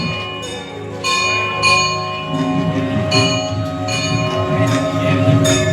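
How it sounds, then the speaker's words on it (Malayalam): A temple bell rings in repeated, ringing strikes during a Mahalakshmi puja at Karikkakam, each strike decaying into the next, with a low hum of voices and activity steady beneath. "മണിനാദം, മംഗളകരമായതൊക്കെയും"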